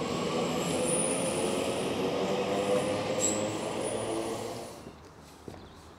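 A Blackpool North service train rolls loudly past a station platform in Bolton, a steady roar of wheels with a high squeal riding above it, fading away toward the end.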